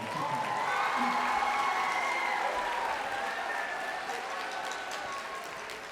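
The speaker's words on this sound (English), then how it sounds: "How about a round of applause for Hiromu, by the way?" Audience applause fills a school band's Halloween concert, steady dense clapping held throughout with a constant bed of crowd noise and some voices mixed in.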